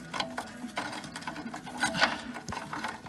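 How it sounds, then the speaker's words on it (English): A ratchet clicks in short rapid bursts as it removes the nut from a rear lower control arm bolt on a 2011 Volkswagen Tiguan, close by and fairly quiet, with light metallic handling between the turns. "So I'm just taking the nut off that now, and then hopefully this should come out."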